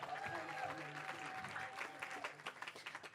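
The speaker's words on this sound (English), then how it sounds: "Can I have another round of applause for my gorgeous volunteers?" An audience applauds volunteers at a Stream Europe 2019 event, giving a brief burst of clapping that fades within about two seconds, fairly quiet and distant, with a faint tone audible underneath.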